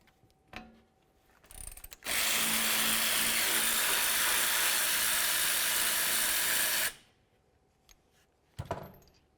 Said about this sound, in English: To remove these bolts, let's go ahead and use a 14mm socket.